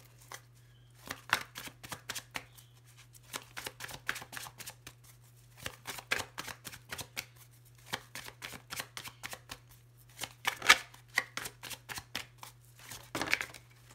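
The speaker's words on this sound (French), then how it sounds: "Avec le tarot, on va faire une coupe pour avoir un petit peu, donc, les énergies de façon générale." A tarot deck is cut and shuffled by hand, giving a series of soft riffling and flicking card bursts in irregular clusters, close and fairly quiet over a steady low hum, with no talking.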